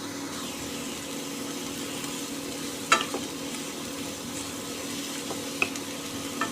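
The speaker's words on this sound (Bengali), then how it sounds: "একটু তেলে ভাজলে বেগুনটার টেস্টটা খুব সুন্দর আসবে।" Brinjal fries in a little oil in a large wok, a moderate steady sizzle with occasional sharp spatula clicks against the metal, and no talking.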